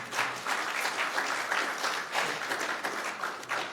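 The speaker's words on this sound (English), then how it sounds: "Give him a round of applause." Audience applause rings out at a Sacramento City Council meeting in a city hall chamber: dense, continuous clapping from many hands at moderate volume, sustained and even for several seconds without speech.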